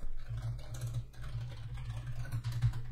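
Someone types an npm install command for Webpack Dev Server on a computer keyboard, a quick, close run of soft key taps over a low steady hum, with no talk.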